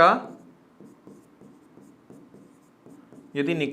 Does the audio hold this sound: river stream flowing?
no